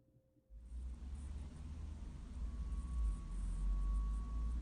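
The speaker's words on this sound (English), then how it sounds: "this is the only one that has that strange electric sound throughout" A strange electric static runs through a recording as a steady hiss over a low rumble, with a thin constant hum, growing slightly louder after a quiet start.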